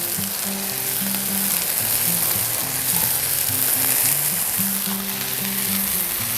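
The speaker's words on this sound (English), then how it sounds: "I got a brioche bun. Get this kind of toasted up. A little bit of avocado oil." A brioche bun toasts in avocado oil on a Blackstone griddle, giving a loud, steady sizzle that stays even from start to finish with no voices.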